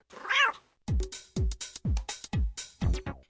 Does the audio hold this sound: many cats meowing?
yes